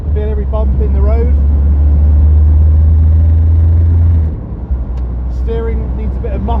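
An older classic car engine drones steadily with road rumble from inside the cabin while driving, a heavy low hum that cuts out after about four seconds, with someone talking over it.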